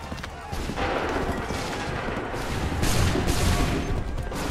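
Assassin's Creed 3 Remastered battlefield musket volleys crack in overlapping bursts amid a dense roar of combat noise, loud and continuous.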